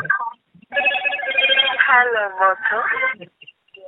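A melodic phone ringtone plays close and clear, its tones gliding and warbling for a few seconds before cutting off.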